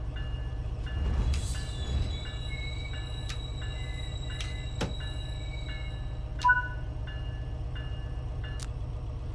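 Train rolling along rails in the Train Sim World 3 game on the NEC Boston–Providence line, a steady rumbling run with a few brief squeals and clicks and a louder clunk late on, no voices.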